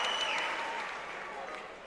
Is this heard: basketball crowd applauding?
yes